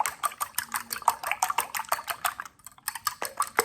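A fork whips eggs in a bowl for a Caribbean omelette, a brisk run of close, rhythmic clinks and taps against the bowl with a brief pause partway through, no voices over it.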